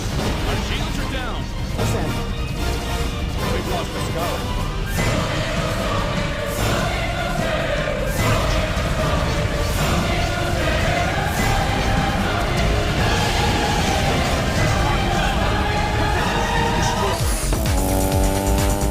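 Racing cars from the Need for Speed ProStreet video game roar through loud, continuous engine revving with tire squeal and rising whines, a busy game soundtrack layered throughout.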